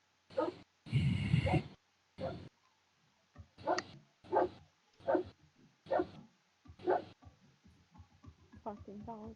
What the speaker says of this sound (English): every time I hear the barking dog